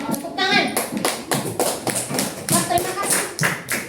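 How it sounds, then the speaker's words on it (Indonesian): Rhythmic group clapping in an Islamic studies classroom lesson, steady beats about twice per second, close and fairly loud, with children's voices talking alongside. "Udah, tepuk tangan."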